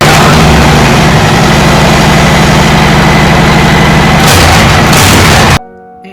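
A motorcycle engine runs loud and steady at a low, rumbling idle with a pulsing rhythm, then cuts off abruptly near the end, leaving near silence.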